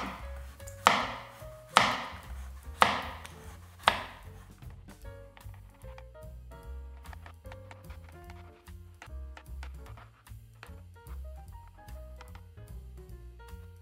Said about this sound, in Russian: Тоненькими кружочками нарезаем кабачки.